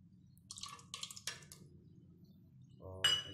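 A spoon clinks and scrapes in a pot as curd is stirred into boiling milk for mishti doi, a few short metallic knocks separated by quiet, ending in one louder clink.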